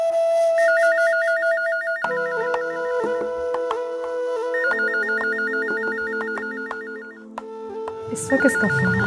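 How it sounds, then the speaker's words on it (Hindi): A telephone rings indoors during a Pakistani TV drama scene, a repeating electronic ringtone melody that plays loudly and continuously, its chirping pattern cycling several times with no talk over it. "इस वक्त किसका फोन आ गया?"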